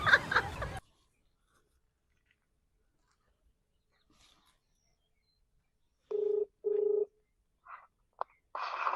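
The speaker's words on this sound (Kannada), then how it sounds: "ಗೌಡ್ರಿಗೆ ಫೋನ್ ಮಾಡ್ತೀನಿ." A telephone number being dialed for a call: after a burst of noise and a long quiet stretch, two clear keypad tones sound close together, followed by a few short faint clicks and bleeps.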